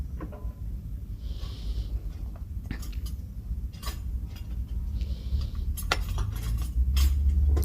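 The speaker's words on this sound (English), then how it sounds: "I'm cutting small pieces, slices. I'll transfer into the bowl." Avocado slices being moved into a bowl: soft, scattered clinks and light taps of a utensil against dishware, close and fairly quiet, over a low steady background hum.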